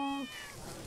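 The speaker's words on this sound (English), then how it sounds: "Another cat!" A cat meows once in the video game Unearthed: Trail of Ibn Battuta, a short, clear, fairly quiet mew that trails off.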